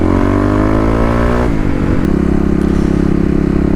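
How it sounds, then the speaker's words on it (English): A 2018 Kawasaki KLX351 EFI motorcycle engine revs hard and loud, its pitch climbing through a gear, dropping sharply at the shift, then climbing again in a steady, close drone. "get the bike warmed up, and see how the KLX will do 0 to 60"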